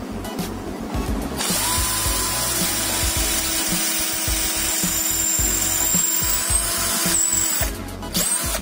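A cheap cordless drill runs steadily at higher speed, a continuous whining motor tone with grinding bit noise as it bores into material, loud and close for several seconds, spinning down near the end.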